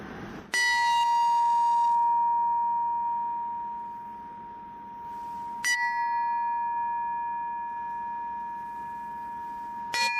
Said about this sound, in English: with the sound of the bell, you can slowly open your eyes to end the meditation